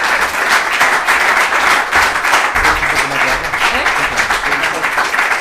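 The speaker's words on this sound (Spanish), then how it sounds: "un aplauso." Sustained audience applause at the close of a conference talk in a hall, dense and loud clapping throughout with faint voices mixed in.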